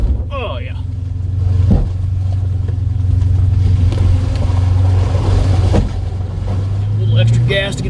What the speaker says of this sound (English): A little extra gas to get over that spot for me since we're a little bit lower.